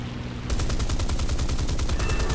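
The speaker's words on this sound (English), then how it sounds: "Mustangs, 20mm cannons are pretty deadly, and they have sufficient ammo." A P-51 Mustang's 20mm cannons in War Thunder fire a rapid, steady burst after a brief lull, loud, close and evenly spaced rounds hammering on for about two seconds.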